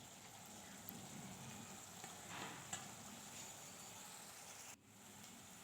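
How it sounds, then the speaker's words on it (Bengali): Spice paste being stir-fried in oil in a pan for a kain fish curry, a steady soft sizzle heard close up with faint stirring. "এবার মশলাটাকে খুব ভালো করে কষিয়ে নেব।"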